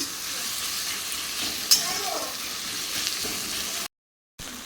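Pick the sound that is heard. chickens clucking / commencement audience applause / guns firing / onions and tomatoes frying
onions and tomatoes frying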